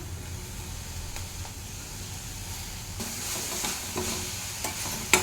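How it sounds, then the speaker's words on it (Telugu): Soaked raw chana dal hits hot oil in a pan with chilli powder while cooking a rice flour snack, giving a steady sizzle that swells louder midway, with stirring scrapes and a few sharp clinks near the end. "ఇది కొంచెం ఫ్రై అవ్వాలి ఇప్పుడు దీంట్లోనే నానబెట్టి పెట్టుకున్న పచ్చి శనగపప్పు వేస్తున్నాను"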